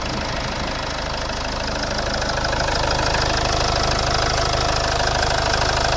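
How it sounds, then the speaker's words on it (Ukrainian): A 2010 Mitsubishi Outlander XL with a 2.2 diesel engine idles, a steady, loud, dense rumble with an even knocking texture and no variation, with no speech over it. "робота двигуна."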